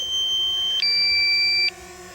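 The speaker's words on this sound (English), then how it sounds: "it's gonna beep at us the whole time here" A DJI Mavic Mini drone's low battery warning: a high electronic tone sounds steadily, then shifts into a pair of higher tones, over a faint low hum.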